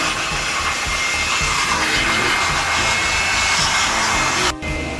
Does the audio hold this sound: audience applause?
no